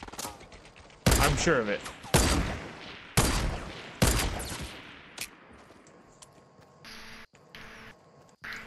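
Fortnite gunfire: four or five loud, sharp shots in an uneven burst, each with a brief ringing tail, then a faint mechanical reload and scattered game effects, with someone briefly talking.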